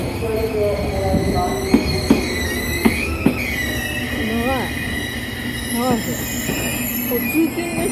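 A commuter train rumbles along with wheels squealing in repeated rising screeches and a few sharp clicks over the rails, heard from on board, after leaving Hakata Station.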